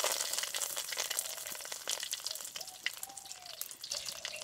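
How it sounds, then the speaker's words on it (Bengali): Dried chillies, black mustard seeds and curry leaves frying in white oil in a kadai: a steady, close crackling sizzle with scattered sharp pops running throughout, no voices. "এই তেলে দিয়ে দিচ্ছি দুটো শুকনো লঙ্কা, দিয়েছি কিছু কালো সরিষা, দিয়েছি কারি পাতা"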